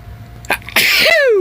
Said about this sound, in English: Probably got to sneeze again.